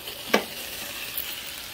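A pot of homemade strawberry preserves made from three ingredients boils on a stovetop burner, giving a close, steady bubbling hiss, broken early by one sharp clink or scrape and a fainter tap later, with no talking.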